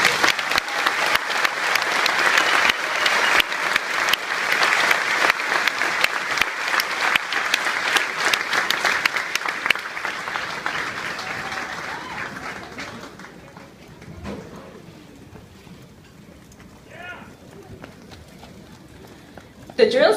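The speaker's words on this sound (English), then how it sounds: "Ladies and gentlemen, please give these soldiers a round of applause" A crowd applauds soldiers at a Fort Jackson ceremony, steady loud clapping for about twelve seconds before it fades into quieter background noise.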